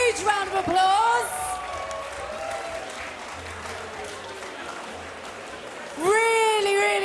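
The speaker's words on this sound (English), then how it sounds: "Give both fighters a huge round of applause" A crowd applauds and whoops for chessboxing fighters after a bout at a live event, the clapping steady beneath loud amplified announcer talk at the start and end.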